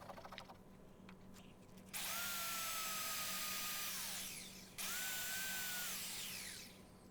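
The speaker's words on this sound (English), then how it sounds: "So that's a 40 grit belt on the sander, which does remove quite a lot of material." A belt sander fitted with a coarse 40 grit belt grinds turned wood in two long, loud passes, with a brief lull between them and quieter workshop sound before the first pass.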